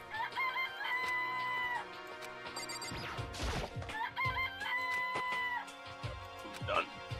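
Chickens in the video game Danganronpa cluck and crow in repeated bursts, a rooster's cock-a-doodle-doo call sounding twice with clucks and sharp clattering thuds between, while people talk faintly over it.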